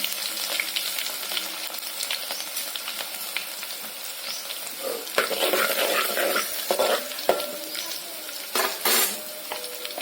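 Garlic fries in a pan with a close, crackling sizzle, broken by stirring and clattering bursts in the second half, with no one speaking.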